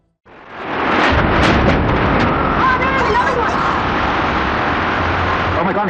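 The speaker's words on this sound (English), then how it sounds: "Oh my God, explosion now." An explosion in the Middle East that sets off a sudden, loud, sustained broadband roar that keeps rumbling, with crowd voices mixed into the din.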